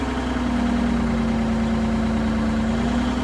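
The three-cylinder Kubota diesel engine of a 2021 GIANT GT 5048 compact telehandler idles steadily and close by, a constant low rumble with a droning hum throughout.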